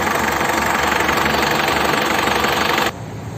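A 2003 Isuzu Panther LS engine idles in a steady, loud drone that runs continuously, then drops in level abruptly near the end as if muffled or cut off.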